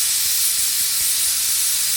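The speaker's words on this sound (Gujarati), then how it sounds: "તો મિત્રો જો આપણે પહેલી સીટી વાગી ગઈ છે." Pressure cooker whistle releasing steam while boiling green corn on a village stove, heard as a steady, loud, continuous hiss with faint low clatter underneath.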